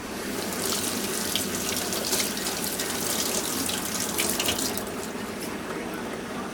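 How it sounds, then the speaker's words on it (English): Water from a kitchen faucet runs steadily and loudly as a freshly breasted wild duck breast is rinsed under it, a continuous splashing hiss close by. "Then we're going to take it over here and we're going to rinse it off."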